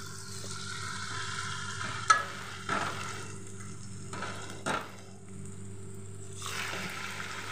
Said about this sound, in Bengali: বড়াটা এখন ভাজছি